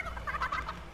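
Chicken clucking in a survival shooter video game, a steady run of short, close, bright clucks and chatter lasting about a second with no talk over it.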